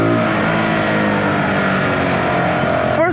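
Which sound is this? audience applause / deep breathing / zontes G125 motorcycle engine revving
zontes G125 motorcycle engine revving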